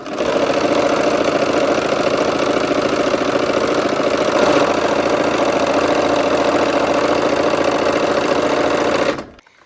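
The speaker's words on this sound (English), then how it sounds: "we're gonna go ahead and sew these on the long sides" A sewing machine runs nonstop while stitching quilt block pieces along their long sides, a loud, close, steady motor hum with a fast rhythmic needle chatter, stopping abruptly at the end.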